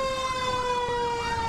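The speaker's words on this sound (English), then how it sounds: "seeing the bright red trucks and hearing those sirens this morning" Fire truck sirens from the Scranton Fire Department at a Santa parade, a steady wailing tone with a rhythmic warbling sweep, loud and continuous, with traffic rumble underneath.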